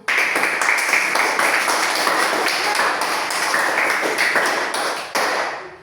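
A grade 5 primary school class applauds as a group, producing a loud, sustained burst of dense clapping with sharp individual claps standing out, tapering off near the end.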